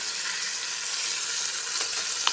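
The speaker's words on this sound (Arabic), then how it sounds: "هنا ندير اللحم يتقلى. بسم الله. هنا بعد ما تحمر لي اللحم نضيف البصله." Ground meat for kefta fries in a pan for a traditional Algerian tajine, a steady close sizzle with faint crackles and a soft stir near the end.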